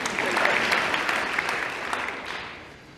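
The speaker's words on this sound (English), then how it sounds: "Sorry, you clap now." Audience applause at a senior awards ceremony, a full round of clapping that swells quickly, holds briefly, then thins and fades, with a faint voice mixed in.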